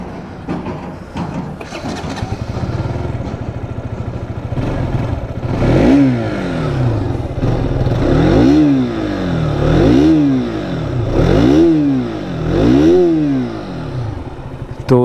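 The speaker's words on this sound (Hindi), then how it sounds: "अब एक बार नई वाली RC स्टार्ट कर लेते हैं" A new-generation KTM RC 200 motorcycle engine cranks and fires, then idles and is blipped in repeated rising-and-falling revs, loud and close with no talking.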